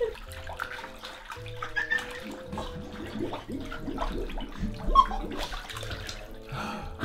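Bath water sloshing and splashing in a filled tub with a fizzing bath bomb, steady watery movement with small splashes close by.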